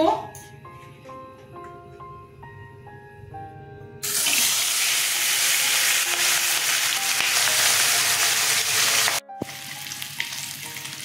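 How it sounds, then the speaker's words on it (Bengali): Sarputi fish drop into hot oil and break into a loud, dense, steady sizzle after a few opening musical tones; the frying cuts out briefly, then continues a little quieter. "তেল গরম হয়ে গেছে, মাছ ছেড়ে দেব।"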